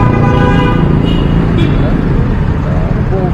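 A car horn honks from a vehicle behind in stalled street traffic, loud and close, over heavy road noise and engine rumble, while people talk throughout.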